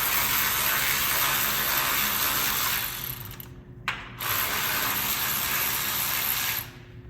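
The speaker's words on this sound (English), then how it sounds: "we're gonna take a 10mm socket. We're gonna remove this bolt here." A ratchet with a 10mm socket turns a bolt out on a Jeep Wrangler JL, producing loud, close, continuous clicking that breaks off briefly once, then resumes before fading out at the end.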